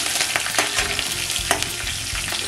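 Dried red and green chilies crackle and sizzle in hot oil with a pinch of asafoetida, a dense close frying hiss punctuated by spoon scrapes and stirring taps.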